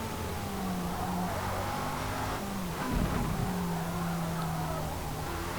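A 2002 Lotus Esprit V8 racing at Le Mans in Forza Motorsport, its engine droning steadily with shifting pitch, a brief tire squeal mid-way, continuous and fairly close.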